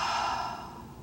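A person acting out suffocation gives a single drawn-out, breathy gasp for air, loud and close, fading over about a second with no other sound around it.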